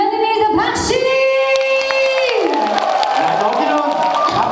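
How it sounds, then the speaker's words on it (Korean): An audience of elderly people in a Korean trot singing class led by a singer applauds and cheers. A loud, sustained crowd din mixes with a woman's drawn-out voice, and the noise continues throughout. "그런 의미에서 박수!"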